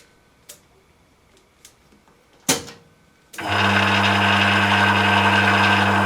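Emco Maximat V10-P lathe switched on at its slowest speed of 60 RPM: a few quiet clicks and a sharp clunk, then a steady loud mechanical hum and drone that continues to the end.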